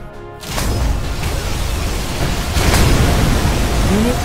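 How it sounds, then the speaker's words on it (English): A particle cannon superweapon fires in C&C Generals Zero Hour, a sustained loud roaring beam blast with a sharp onset that holds steady to the end, its energy swelling once midway. "Particle cannon activated."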